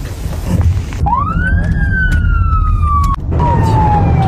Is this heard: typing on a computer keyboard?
no